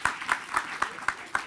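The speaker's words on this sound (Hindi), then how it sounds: "देखिए तालियां बज गई" Audience applause in an interview setting comes as a quiet, sparse run of about six separate claps at a steady, slightly slow rhythm, faint and somewhat distant.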